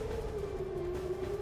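An air raid siren in Israel wails as a single sustained, slightly falling tone, steady and fairly loud over low background rumble, with no talking.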